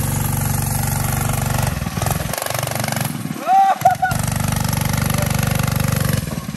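An off-road go-kart's engine drones loudly and steadily, dips out briefly, then roars back during a wheelie attempt. Voices are heard faintly near the middle.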